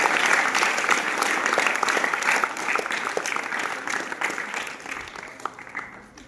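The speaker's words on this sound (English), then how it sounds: "So let us all clap for ourselves." Audience applauding at a school Teachers Day celebration, dense steady clapping from many hands that stays loud throughout and tapers slightly toward the end, with no voices over it.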